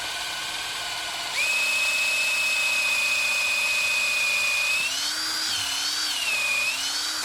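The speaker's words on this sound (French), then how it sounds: "Et on va percer comme ça. Et vous percez pas trop loin, à peu près 2 cm." A cordless drill bores a shallow hole, about 2 cm deep, into a birch trunk to tap sap in Burgundy. The motor spins up to a steady high whine that holds for several seconds, then wavers in pitch as the bit bites into the wood.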